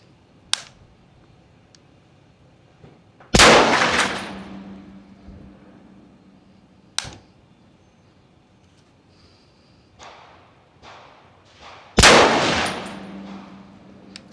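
A PSA Sabre M110-style precision rifle firing during range testing: two loud shots with long rolling tails, a few sharp metallic clicks and snaps between them, and no speech.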